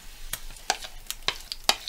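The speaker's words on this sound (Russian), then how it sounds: "Вот наше масло растопилась. Теперь будем выкладывать свой блин." Cabbage pancake batter spooned into melted oil in a frying pan, giving sharp, spaced bursts of sizzle and spatter, about five distinct crackling pops over a low, steady background hiss, close and without talk.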